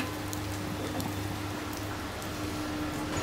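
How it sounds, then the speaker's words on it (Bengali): Steady rain falls as a continuous even hiss with scattered drops, joined by a low constant hum, with no voices over it. "দুপুর থেকে এক নাগারে বৃষ্টি হচ্ছে।"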